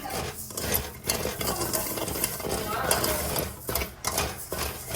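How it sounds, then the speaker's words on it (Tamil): Sago pearls roasting in a pan for payasam, heard as a steady dry rustle and scraping of stirring close by, with faint sizzling and occasional utensil clinks throughout. "பாயாசம் செய்யறதுக்கு சவ்வரிசி வறுக்கிறோம்"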